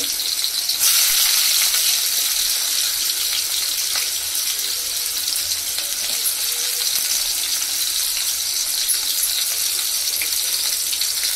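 Onions frying in a pan for chicken gravy and pepper chicken, giving a steady, dense sizzle that stays loud and even throughout with no voices.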